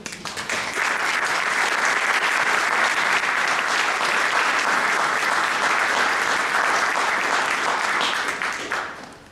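Loud, steady applause from an audience at a talk fills the room for several seconds before tapering off at the end.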